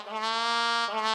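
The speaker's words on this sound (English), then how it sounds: "there's the trumpet plunger" A trumpet plunger voice played alone on an Elite EX/EY keyboard sounds as one sustained, bright brassy note with a slight wah-like change in tone near the end, close and clean with no talking.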